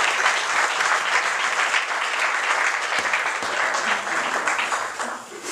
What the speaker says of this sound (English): So can we give Anjali a big round of applause, please?